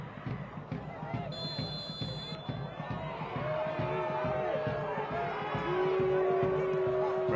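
At a women's soccer match between Spokane Zephyr FC and Sporting JAX, a referee's whistle sounds briefly, then the stadium crowd swells into a louder, sustained grumble of disapproval beneath a commentator's voice.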